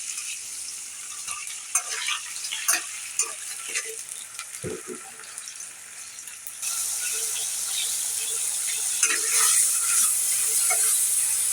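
Shrimp frying lightly with onion, soft scraping and stirring knocks at first, then a steady, brighter hiss of sizzling that swells and holds through the second half.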